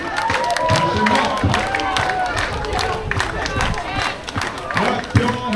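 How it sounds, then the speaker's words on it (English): A crowd at the Samoa Village show at the Polynesian Cultural Center in Hawaii claps and cheers, a busy wash of hand claps and whoops mixed with voices calling out. "Everybody clap your hands."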